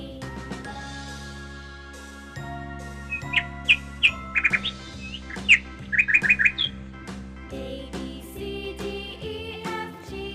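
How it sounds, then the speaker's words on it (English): A parrot's bright chirps and squawks burst out in quick clusters over a cheerful children's alphabet song with steady backing music, loud and close, repeating several times midway through. "P for parrot."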